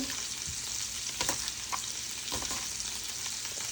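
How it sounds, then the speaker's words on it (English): Scallions frying in a pan give a steady, moderately quiet sizzle throughout, with a few soft clicks and knocks of a utensil moving them around. "So we're cooking some scallion."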